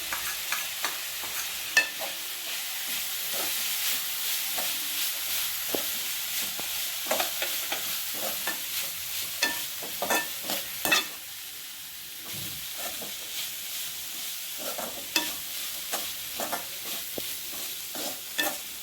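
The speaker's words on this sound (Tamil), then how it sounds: "இதை போட்டு வதக்கிக்கலாம்." Vegetables sautéing in a pan with turmeric and sambar powder for vegetable soup, a soft steady sizzle broken by repeated scraping and stirring clinks, fairly quiet and close, with no talking.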